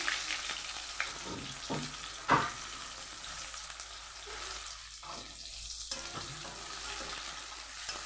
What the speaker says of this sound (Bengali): পেঁয়াজগুলোকে আমি লাল লাল করে ব্রাউন করে ভেজে নেব